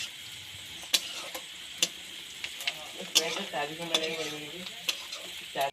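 Kashmiri chili and masala fry in a pan for a chicken dish, a soft, quiet sizzle punctuated by irregular spoon taps and scrapes, with a faint voice briefly in the background.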